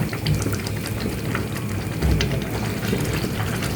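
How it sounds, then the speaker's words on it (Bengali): Onion-flake tempering (bagar) poured into a pot of achari beef, giving a steady, fairly loud liquid splash and sizzle with a rumbling low end that swells briefly around the middle. "পাপড়ি দিয়ে বাগারটা দিব। এখন এই বাগারটা ঢেলে দেব।"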